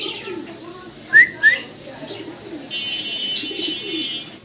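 A pair of bright red, big-sized Maltese pigeons gives low murmuring coos, with two brief sharp chirps early on and faint background chatter.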